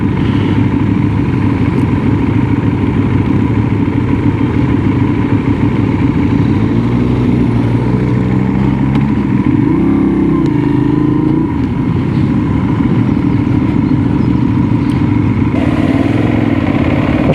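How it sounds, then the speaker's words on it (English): Harley-Davidson motorcycles at a bike festival rumble loudly and close, with a constant heavy engine drone and rising revs as they pass. "These are the Harleys."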